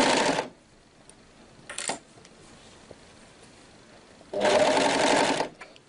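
Sewing machine stitching through three fabric layers at a dress neckline, with two bursts of fast, loud whirring, one short burst between them, and quiet pauses in between.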